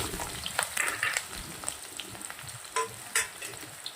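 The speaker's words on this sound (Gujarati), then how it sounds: "ગાજરને સરસ મજાના ઘીના અંદર શેકાઈ જવા દેશું" A soft, steady sizzle of chopped carrots frying in ghee, punctuated by a few scraping stirs of a spoon against the pan.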